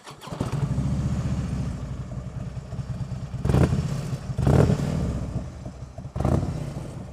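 Harley-Davidson Road King Classic motorcycle engine rumbling steadily with a deep loping idle, then blipped up in three sharp revs, picked up through a helmet microphone.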